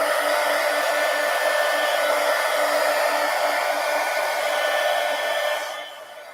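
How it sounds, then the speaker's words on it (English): A heat gun blows a steady, loud, close rush of hot air over a junk journal page for several seconds, then drops away at the end. "let me hit this with the heat gun here."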